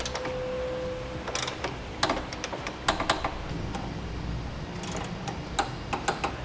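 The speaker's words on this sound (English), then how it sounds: "With them snug down, we can now torque them to spec." Torque wrench with a 9/16 socket tightening bolts on a Blue Ox base plate kit on a 2002 Honda CR-V, giving sharp metallic clicks and ratcheting taps in irregular bursts, close by with no talking.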